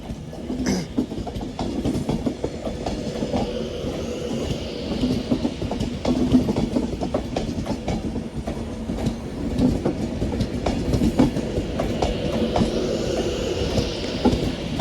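Pendolino trains arriving and departing at Manchester Piccadilly station, giving a steady, loud rumble with rhythmic wheel clatter over the rails and faint squeals. No one speaks.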